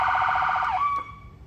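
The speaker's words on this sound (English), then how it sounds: "So there's a siren here. It's a Carson" Carson ambulance siren on a 2016 Ford E450 Wheeled Coach Type III, a loud, close electronic wail with rapid pulsing warble that slides down and settles into a steadier tone before cutting out.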